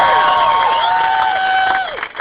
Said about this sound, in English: I want you guys to give them a round of applause right now.